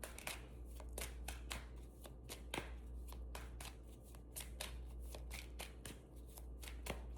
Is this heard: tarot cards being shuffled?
yes